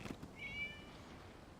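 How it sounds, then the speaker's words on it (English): A single short cat meow inside Genshin Impact, a bright tonal cry near the middle of a quiet stretch with faint game ambience around it. "It was just a cat."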